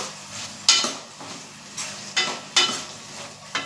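Finely chopped, washed potatoes go into a pan for dhaba-style palak sabji, with several sharp clinks and scrapes of a spoon against the pan over a low, steady sizzle.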